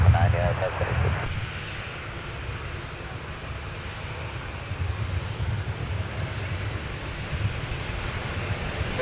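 A United airliner takes off from runway 12 right at Minneapolis–St. Paul airport, its jet engines a broad distant roar rising and holding steady, with wind noise and a faint voice near the start.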